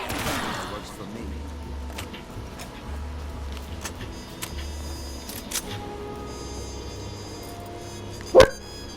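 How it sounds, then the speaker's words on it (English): A pet dog barks once, short and sharp, near the end, heard indoors over ongoing Call of Duty Black Ops III Shadows of Evil game sounds with scattered gunfire. "Sorry about that, that's my dog."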